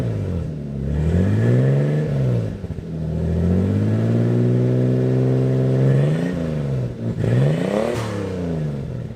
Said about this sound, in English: let you guys hear this thing just revving a little bit